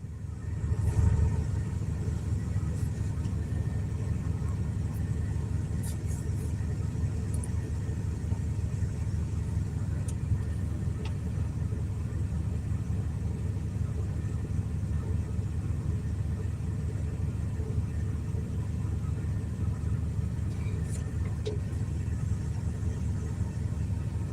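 A Prime Inc. truck engine rumbles steadily from inside the cab while driving, a low and constant drone with faint small clicks and no speech.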